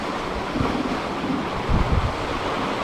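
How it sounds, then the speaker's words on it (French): Sea waves wash and slosh around a sailboat running downwind on the passage from the Canaries toward Cape Verde, a steady rushing wash with two heavier surges, mixed with wind noise on the microphone. "Il y a vraiment des belles vagues."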